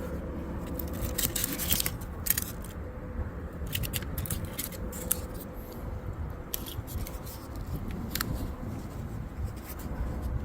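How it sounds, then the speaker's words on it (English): A freshly made, still-warm venison snack stick has its end cut off. A close, busy run of small scraping and snipping sounds continues for about ten seconds over a low background rumble, with no voices. "So cut the end off of one here."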